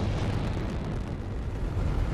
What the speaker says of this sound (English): Explosions happening.